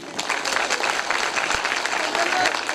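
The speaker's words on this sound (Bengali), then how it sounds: "সো ওনার জন্য আমরা একটা হাততালি দিই।" Audience clapping at a flour factory day celebration, a brisk continuous patter of many hands with a voice talking over it.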